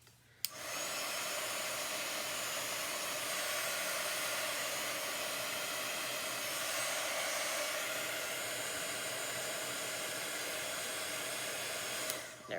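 A hair dryer blows steadily on a chalk transfer stencil for about twelve seconds, a loud continuous whoosh that clicks on at the start and off near the end, with no talking.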